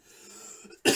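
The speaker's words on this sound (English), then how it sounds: "I got a terrible cough here." One sharp, close cough bursts out at the end, after a moment of quiet room tone.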